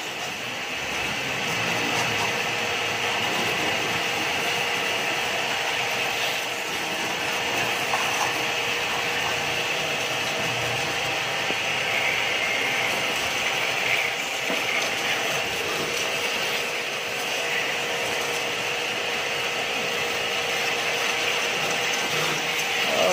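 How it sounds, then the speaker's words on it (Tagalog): A powerful air compressor sprays at a truck wash, a loud, steady, close hissing roar that holds unbroken throughout with no talk. "Kahit sabihin natin na spray lang to, eh malakas tong compressor"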